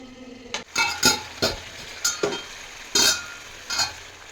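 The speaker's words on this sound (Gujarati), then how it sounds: "ધીમે ગેસે આપણે પકવવા દેશું એટલે તેલ આપણું ઉપર આવી જાય" Eggplant and potato curry simmering in oil over a low gas flame, with a spoon stirring and clinking against the pot in about eight short, distinct scrapes and taps, close by and with no talk.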